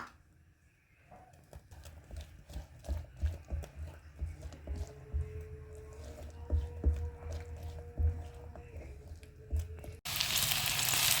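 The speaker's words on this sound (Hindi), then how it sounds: "हमारा ऑयल गर्म हो गया, इसमें हम रफली कटा हुआ प्याज डाल देंगे।" Roughly chopped onion dropped into hot oil, a soft, continuous sizzle at low level with scattered crackles and pops that swell as frying picks up, ending in a brief loud burst of hiss.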